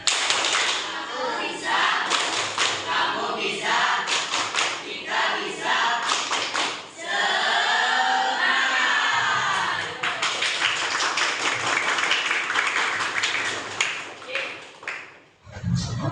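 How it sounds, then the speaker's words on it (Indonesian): Classroom of pupils performs the tepuk semangat, a rhythmic clap chant in an Indonesian language lesson, with patterned bursts of clapping alternating with chanted voices, fairly close and loud, ending in a short pause. "Kita mulai tepuk semangat."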